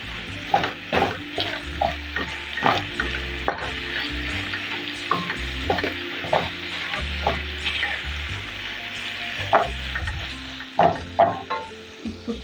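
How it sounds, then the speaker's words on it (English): Greens frying in a pot are stirred repeatedly, with rhythmic scraping and knocking strokes over a steady close sizzle. "After a small portion, you have to"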